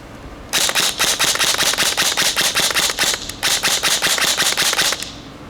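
A Spartan/VFC SRX 303 airsoft M4 pistol fires rapid full-auto bursts, a sharp mechanical rattle of closely spaced shots in two long strings with a short break between, loud and close with no voices.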